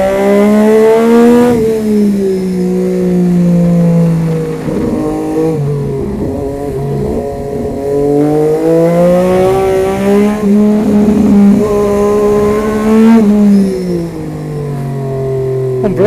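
The Triumph Moto2 prototype motorcycle's engine revs hard and continuously, loud and close, its pitch climbing and dropping through gear changes and throttle swells, with no talking over it.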